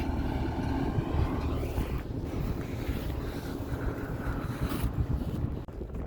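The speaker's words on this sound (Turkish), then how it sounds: "Arkadaşlar öyle bir rüzgar esiyor ki" Strong wind roars steadily across the microphone in an open sugar beet field, loud buffeting gusts filling the whole clip with no voices.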